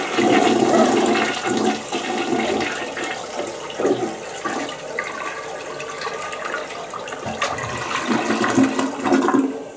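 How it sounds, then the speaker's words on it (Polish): A toilet in an American apartment flushes with a loud, steady rush of swirling water that gurgles and drains for nearly ten seconds, close up and with no voices. "Tak, jak się spuszcza wodę, to wygląda mniej więcej tak."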